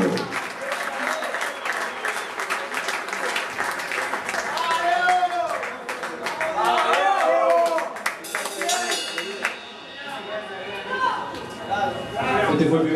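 Enthusiastic audience applause and cheering at a live concert for a guitarist, loud and continuous with crowd chatter and a voice speaking over it, swelling and fading in waves.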